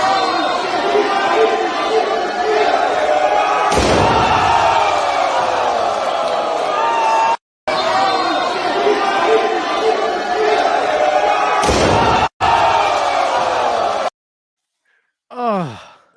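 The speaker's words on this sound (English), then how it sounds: "That was a fucking man falling into another man with a table between them with barbed wire." A wrestler crashes through a table wrapped in barbed wire at a GCW wrestling event, the crowd roaring loudly and continuously with two sharp impact bursts, abrupt cuts, and a final fading cheer.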